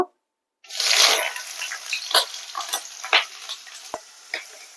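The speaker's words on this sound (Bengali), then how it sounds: "এবার আমি পেঁয়াজটাকে তেলে ভেজে নেব" Long-sliced onions frying in mustard oil, a steady bright sizzle that starts abruptly after a short silence, with occasional stirring clicks and scrapes across the pan.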